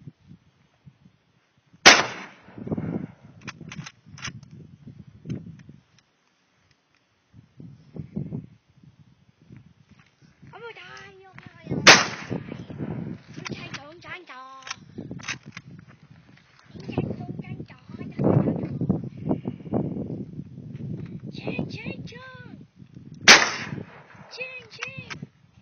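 A WW2 Japanese Type 99 rifle fires three loud, sharp shots spaced roughly ten seconds apart outdoors, with people talking between the shots.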